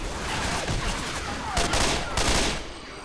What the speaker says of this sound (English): No, I'm shooting stuff.